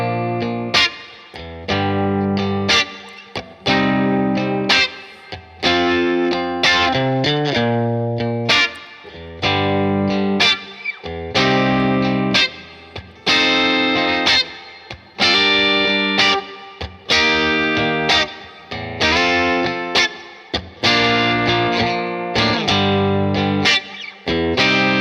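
An electric guitar plays through the clean channel of a Bad Cat Black Cat combo amplifier, with steady strummed chords ringing full and bright, rhythmically repeated and loud, with no voice.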